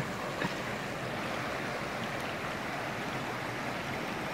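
Creek water flows steadily through a canyon near the trail's end, a soft, even rushing wash with no one speaking.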